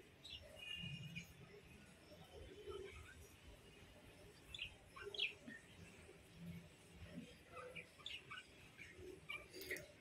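Lovebirds in a cage give faint, scattered chirps and short tweets over a quiet, hissy background, with no clear voices.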